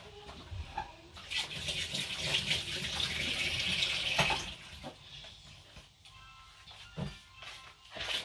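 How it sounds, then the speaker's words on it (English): A kitchen tap runs while hands are washed under it, water splashing and gushing loudest in the middle stretch, then tapering into intermittent drips and small splashes. "Let me wash my hand."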